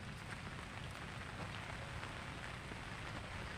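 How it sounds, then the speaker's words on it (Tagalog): Light drizzle falling outdoors, a soft steady patter of fine rain on surfaces, continuous and even throughout with no voices. "Bahagya po umaambon dito sa ngayon."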